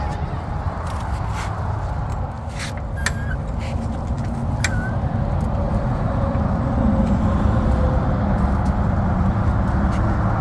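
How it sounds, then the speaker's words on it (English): Vehicles rushing past on a nearby highway, a constant loud broadband roar with passing swells and a few sharp clicks, heard beside a 2012 Chevy Traverse during a front brake job. "I'm doing this work right beside the highway."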